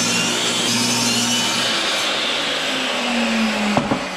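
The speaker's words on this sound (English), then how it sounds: "Let's try cutting a 5-degree bevel here." A power saw cuts a 5-degree bevel in wood, a loud steady whine and rasp running throughout with a few knocks near the end, and no one speaks.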